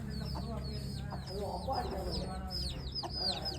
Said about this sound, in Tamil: எல்லாம் சண்டை கோழி.